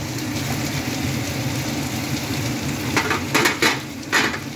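Parboiled Gobindobhog rice tipped into frying masala in a pan, a steady sizzle with a few scraping, clattering stirs toward the end, close and continuous.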